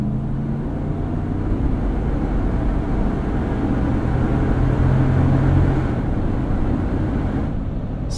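A Toyota 4Runner with a 260-horsepower V8 and an ARB bumper, driving: a loud, steady low engine and road drone heard from inside, with no talking.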